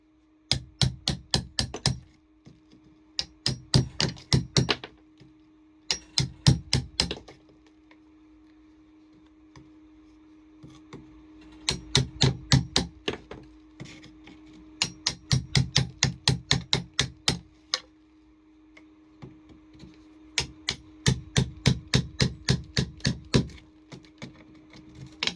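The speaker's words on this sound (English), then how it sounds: "Chisel it out." Hammer and chisel cutting a channel into an aircrete block: close, crisp strikes in quick runs of about six to ten blows, separated by short pauses, repeating steadily over a faint constant hum.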